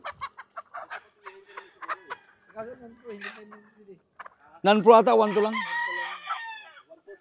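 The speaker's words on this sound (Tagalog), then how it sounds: "Ang laking inahin na rin." A large hen clucks in short, choppy bursts, followed by a longer, louder drawn-out crowing call close by, with people talking in between.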